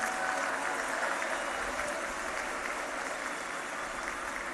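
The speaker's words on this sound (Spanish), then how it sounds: "Ándele, un aplauso a los servidores de la Nación." A crowd applauds the Servidores de la Nación at a public event in Chimalhuacán, State of Mexico: dense, steady clapping that holds at an even level for the whole stretch, with no clear pause.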